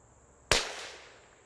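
A single sharp crack from a Springfield 2020 .22LR rifle fired at the range, close and loud, with a short decaying tail after the shot.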